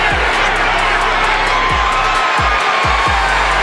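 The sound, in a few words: boxing crowd cheering and encouraging a fighter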